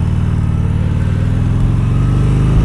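A Harley motorcycle rides along Sunset Boulevard, its engine a loud, close, steady throbbing rumble with a slight rise in revs toward the end.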